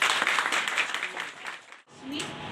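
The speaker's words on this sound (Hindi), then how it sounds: "आगे एक बार जोरदार तालियां हैं।" A crowd claps loudly and steadily, a dense wash of applause that briefly drops out before resuming.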